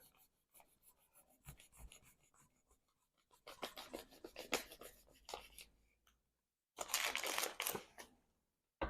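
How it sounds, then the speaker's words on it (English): Large kitchen knife slicing through cordless blackout blind material on a cutting board, faint scratchy rasping strokes in irregular bursts with two denser cutting runs separated by short silences. "I just do it with a bigger kitchen knife, put it on a cutting board"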